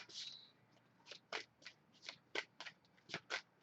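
A deck of cards being shuffled by hand. About nine crisp riffling bursts come in a steady rhythm, close and clear, with no talking.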